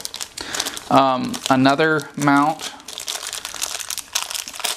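Small plastic bags being crinkled while camera accessories are unpacked, with soft crackling heard under someone speaking up close.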